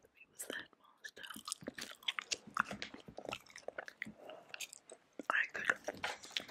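Close-miked chewing gum during a whispered ASMR bedtime reading, with soft wet smacks and clicky bites repeating steadily throughout, mixed with quiet breathy whisper-like mouth sounds.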